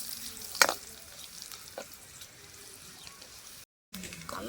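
Spices tempering in hot oil for a sudai fish curry, a faint crackling sizzle with a sharp pop and stirring clatter near the start, quiet throughout and briefly cutting out near the end.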